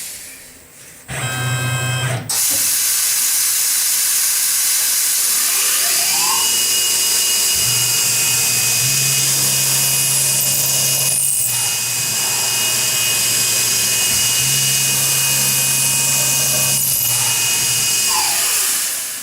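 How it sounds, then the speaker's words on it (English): Drilling two holes in metal on a machine with a 0.198 drill bit while making a flat grinder platen for knifemaking: a loud, steady high whine of the spindle with two longer bursts of cutting, close and continuous. "So the first machining operation is to drill two holes that I will hand tap for an M6 thread."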